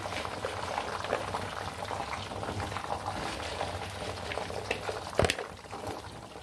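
Garlic fries in a pan while being stirred, a steady close bubbling sizzle with light scraping, ending in a brief sharp clatter near the end; no talking.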